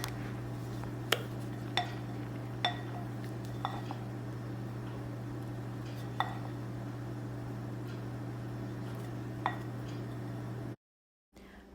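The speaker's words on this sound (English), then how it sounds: "just keep stirring until it's all incorporated and the chocolate chips melted and it's smooth" A spoon stirs melted chocolate chips and cream in a bowl, with sparse, light clinks against the bowl over a steady background hum, ending in a brief silence.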